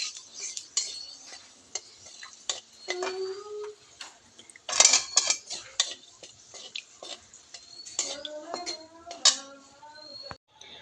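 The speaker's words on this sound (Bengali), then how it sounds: "একটা শুকনো লঙ্কা ফোড়ন দিয়ে দিচ্ছি।" A dry red chili tempering in a pan while a metal utensil stirs and clinks against it, giving a faint sizzle with scattered close scrapes and taps and a voice talking at times.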